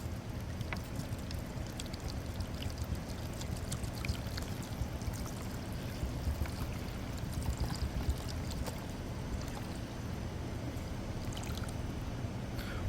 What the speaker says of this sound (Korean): 그래서 컵을 놓고 물을 부어 주시면 됩니다.